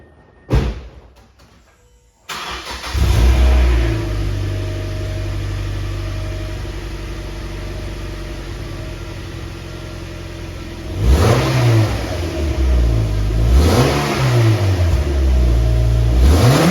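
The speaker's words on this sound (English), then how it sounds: "Here is a sound clip of the stock exhaust." A stock-exhaust Mazda MX-5 Miata idles loudly and close, with a door thud near the start, then revs up in several rising and falling sweeps toward the end.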